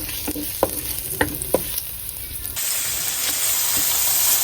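Food cooking in a pan with only a little oil: sharp stirring scrapes and clacks at first, then a broadening hiss of sizzling fat that swells and holds steady to the end.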